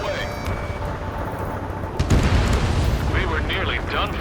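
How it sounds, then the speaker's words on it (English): Missile launch in the Ace Combat 7 video game, a sudden loud whooshing blast midway that swells into a roaring rush over background engine and combat noise, with radio chatter in the mix. "Missile away."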